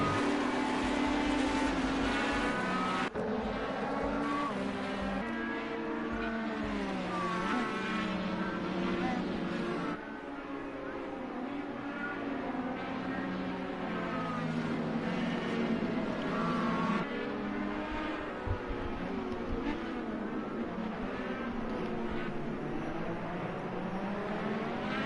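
IndyCar race cars start a race at Sonoma Raceway, their engines whining and droning as a pack and rising and falling in pitch as they pass, steady and fairly loud throughout while a commentator talks over them.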